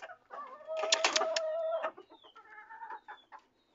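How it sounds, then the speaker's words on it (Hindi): Several chickens, including Australorp and desi hens, clucking and a red rooster calling nearby, a burst of loud overlapping squawks followed by softer scattered clucks. "ये रहा हमारा लाल मुर्गा"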